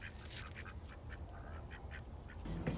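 Backyard ducks quack in a short, faint run of nasal calls over a low rumble of ambient noise, fairly distant and brief.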